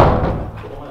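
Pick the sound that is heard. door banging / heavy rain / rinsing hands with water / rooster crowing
door banging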